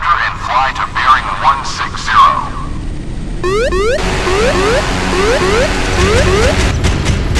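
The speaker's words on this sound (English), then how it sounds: "Take off helicopter and fly to bearing" Helicopter taking off in the naval combat game Modern Warships, with a voice command at the start followed by loud synthetic engine and rotor whine, rising sweeping tones and clattering game effects.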